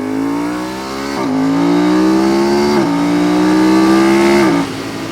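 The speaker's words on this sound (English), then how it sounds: "As you can see, the bike moves." A 1999 Ducati 996 superbike fitted with a quick shifter pulls away loud and close, its engine note climbing steadily with three quick upshifts.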